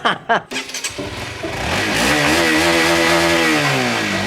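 A motorcycle engine clatters through a few cranking bursts, catches, then revs up into a loud, close, sustained rising drone, with some talk underneath at the start.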